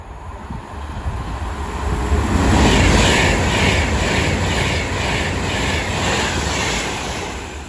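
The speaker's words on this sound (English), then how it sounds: "Soon to pass through now will be another Avanti West Coast stairs going from London Euston to Manchester Piccadilly." An Avanti West Coast express train on the West Coast Main Line passes through Watford Junction, a loud roaring rush that swells and holds with rhythmic wheel beats over the rails, close and continuous.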